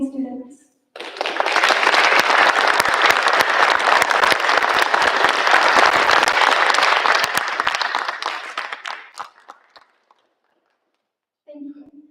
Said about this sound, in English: Please join us once again in applauding these amazing students.